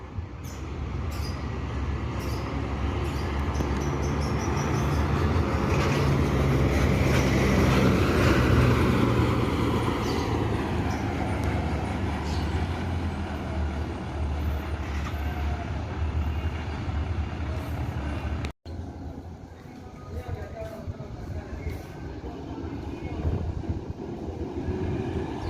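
A Bumarang Jaya bus rolls into Solok bus terminal, its heavy engine roaring steadily and swelling as it comes close, then easing off with a low rumble, amid terminal background noise.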